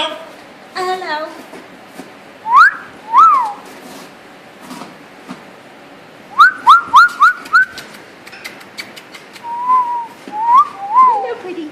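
Pet bird whistling in short rising and falling notes, several quick bursts in a row, close and clear, with a person's voice talking between the calls.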